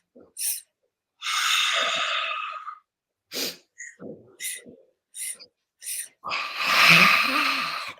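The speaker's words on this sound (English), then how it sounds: "we're going to inhale 4 parts. You get to choose if you're going to inhale through your nose, but you don't get to choose on the exhale" Breathing-exercise practice: several sharp nasal inhales and mouth exhales in a loose rhythm, ending in a long, forceful breath out, close and fairly loud with no talk.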